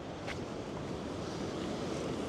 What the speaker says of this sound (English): We're actually getting hit by the mist of these waves.